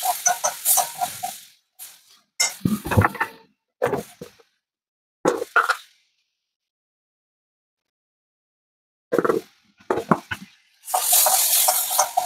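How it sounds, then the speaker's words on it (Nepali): Potatoes fry in a pan and get stirred, heard as short scraping and sizzling bursts separated by quiet gaps, ending in a longer hiss of frying. "यसमा आलु भुट्नु पर्छ अलिक राम्रो हुन्छ।"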